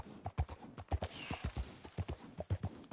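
Horse hooves clip-clop in Red Dead Redemption 2, a steady rhythmic run of distinct thuds near a river, fairly quiet and heard alone.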